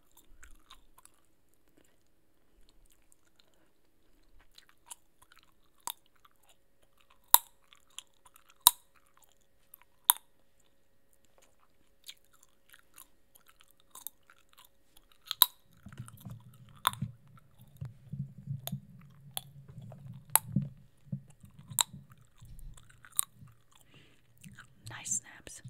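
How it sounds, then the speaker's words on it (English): Mexican Cup O' Noodles flavored gum chewed close to the mic in an ASMR setting, with sharp isolated snaps scattered throughout and wetter, steadier chewing joining in over the second half. "It's good snapping gum."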